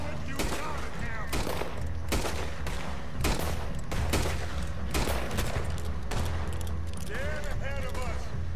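Rapid gunfire from the video game Red Dead Redemption 2 rings out in dense, repeated shots, loud and close, layered with shouting voices and game sounds throughout.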